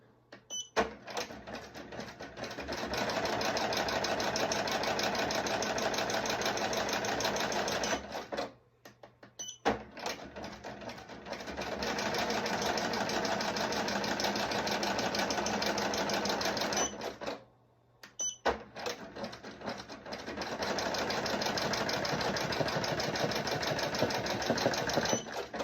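An embroidery machine stitches a patch in a rapid, steady mechanical chatter, running in three long bursts separated by brief pauses, fairly quiet and close.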